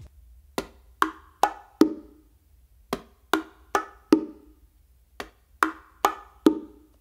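Bongos played in a repeating three-group pattern of bass, slap and open tones on the hembra, each stroke crisp and close with a short ringing decay, separated by brief pauses.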